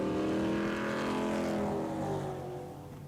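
Stock cars racing around the Grand Bend Speedway oval roar past in a loud engine surge that fades slightly over a few seconds, with no voices.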